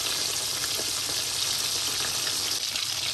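Crumb-coated prawns fry in hot oil in a pan, producing a dense, even hiss and crackle that holds steady and close throughout, with no voices.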